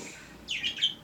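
Small birds chirp in a quick cluster of bright, high calls. The calls rise over a quiet background, stand close, and are heard alone without talk.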